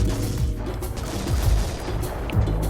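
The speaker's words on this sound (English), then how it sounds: "Now we can see the missile was went down and caused a great explosion" A missile launched from a warship in a Garry's Mod naval battle bursts into a series of deep booming explosions with rumbling low thuds, loud and close, with no talk over them.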